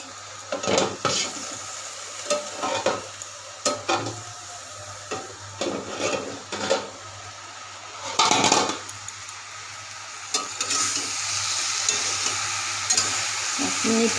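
Vegetarian cabbage ghonto cooking in a pan, with a lid put on: soft sizzling under repeated wooden and metal stirring scrapes and clinks, then a steadier frying hiss toward the end.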